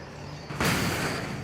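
A flashbang grenade goes off in Alan Wake Remastered: after a quiet half second, one sudden broadband blast hits and leaves a loud, sustained ringing hiss that holds to the end.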